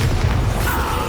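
A Bombarda spell explodes in the Hogwarts Legacy game, a loud, close, booming blast with a dense roar that fills the whole brief moment, no speech over it.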